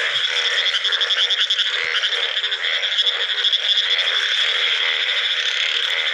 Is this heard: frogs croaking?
yes